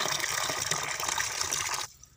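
Water gushes steadily from a tap into a container being filled for pigeons, a loud, continuous rushing splash that cuts off abruptly near the end, leaving quiet.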